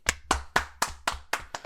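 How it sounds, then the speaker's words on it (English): A single pair of hands clapping slowly and evenly, about seven distinct claps in under two seconds, close and crisp with short gaps between each. "give yourselves a pat on the back and a little applause because we made it"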